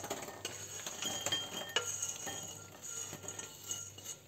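Fried plantain tostones lifted from a frying pan with light oil, giving scattered metallic clinks and utensil taps against the pan over a faint background sizzle, close and quiet.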